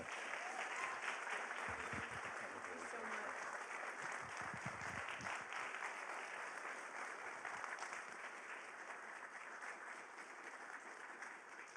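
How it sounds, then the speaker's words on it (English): Steady applause from a large crowd, broad and continuous for the whole stretch, with no voices over it. "Another round of applause for Becky Buller."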